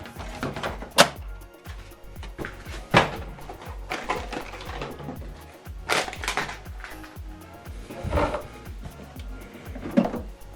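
An HP DeskJet 2710-series printer has its plastic cartridge access door handled and shut during an ink change, heard as several close, irregular clunks, snaps and rattles spread across the clip, with no speech.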